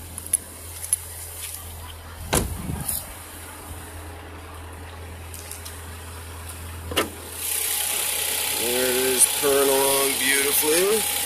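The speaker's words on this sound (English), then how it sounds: "let's go back to the engine so you can hear how it sounds" A 2017 Ford Focus ST with its turbocharged engine idling, a steady low hum running throughout, with a few clunks and a person speaking faintly near the end.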